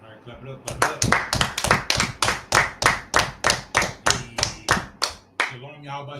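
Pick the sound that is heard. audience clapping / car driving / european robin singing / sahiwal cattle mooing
audience clapping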